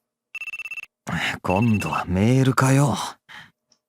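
A phone rings in the visual novel Dies irae, a quick burst of bright electronic trilling pulses. It stops after about half a second, and a voice then speaks at length.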